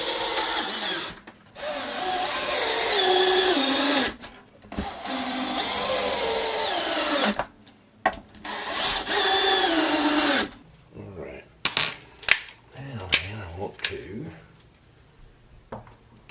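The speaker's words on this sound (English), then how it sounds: "let me finish putting the screws in." A power drill drives screws into a mobile home door. Several long whining bursts run at steady speed, separated by short pauses, and give way to softer clicks and handling noises near the end, with some talk mixed in.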